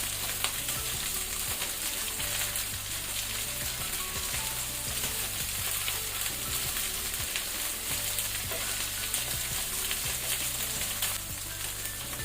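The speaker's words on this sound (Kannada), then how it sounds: "ಇದನ್ನೀಗ ನಾವು 2 ಸೈಡು ಒಳ್ಳೆ ಗೋಲ್ಡನ್ ಬ್ರೌನ್ ಆಗೋ ತನಕ ಫ್ರೈ ಮಾಡ್ಕೊಳ್ಬೇಕು." Chicken pieces fry in a pan for red wine chicken, a constant dense sizzle and crackle that stays even and close throughout, without any speech.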